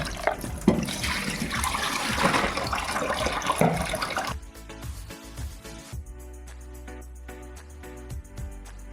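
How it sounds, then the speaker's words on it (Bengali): Prawns are rinsed in a basket under running water, a loud continuous splashing gush for about four seconds that then cuts to a quieter trickle and drip with a low background hum; no one speaks. "এবার আমি চিংড়ি মাছগুলো একইভাবে একটু ধুয়ে নেব নিয়ে ঝুড়িতে জল ভরতে দেবো"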